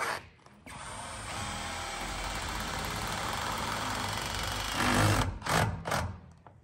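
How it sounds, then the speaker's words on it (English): A power drill drives the last screw into the roof of a log home in Alaska, whirring steadily and loudly for several seconds before revving up and stopping in a few short bursts. "This is the last screw that I'm putting in, and then this roof is done."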